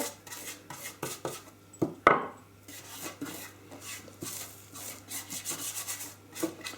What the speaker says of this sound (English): You can either use your hands or you can use a brush, doesn't matter really, as long as the cling film gets a light coating of oil all over.